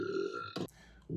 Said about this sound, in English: The burping bin.